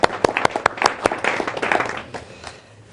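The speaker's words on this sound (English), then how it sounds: "I think it's appropriate that we give a round of applause to Jenny" An audience gives a round of applause for Jenny at a televised business talk, loud and sharp claps that are individually distinct at first, then thin out and fade over about three seconds.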